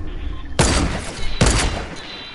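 Two loud, booming sniper rifle shots from Fortnite ring out almost a second apart, each with a heavy crack and trailing echo over a low game background.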